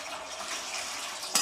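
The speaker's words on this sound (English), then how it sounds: "So now pour the water" Water is poured steadily into a basin for a patient's sponge bath, making a continuous splashing hiss at moderate loudness that ends with a short clink.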